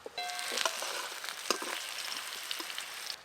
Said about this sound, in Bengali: এই দেখুন ধীরে ধীরে কুমড়ো ভাজার রং হালকা চেঞ্জ হয়ে যাচ্ছে, একটু লাল লাল হয়ে যাবে।